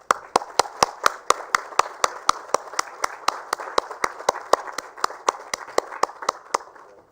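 An award ceremony audience applauds a winner at a sanitation awards event: sharp, evenly spaced rhythmic claps, about three per second, ring out over a continuous bed of crowd applause and gradually fade.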